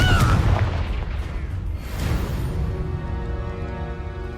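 Explosions from the Confringo fire spell boom in Hogwarts Legacy, a heavy blast at the start followed by rumbling bursts that fade into a lingering roar.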